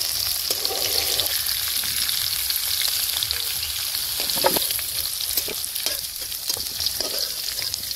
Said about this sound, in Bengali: আলুগুলো হালকা করে ভেজে তুলে নিচ্ছি